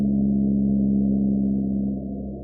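Blue whale call sped up four times: a steady, low, droning moan that holds one pitch with soft overtones and fades slightly near the end.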